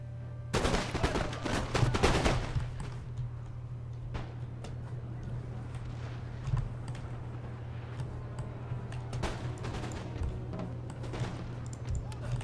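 A musket volley crackles at close range in the Napoleon Total War video game, a dense burst of overlapping shots followed by scattered later reports over a steady low battlefield hum.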